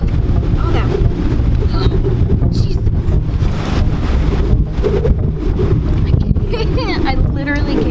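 Strong, cold wind roars and buffets the microphone on the exposed summit of Harney Peak in South Dakota, about 7000 feet up, as a loud, unbroken rush with gusty surges throughout.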